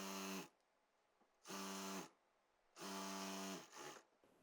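A sewing machine stitching elastic onto a palazzo runs in three loud, steady bursts of about half a second each, separated by short pauses. No voices are heard.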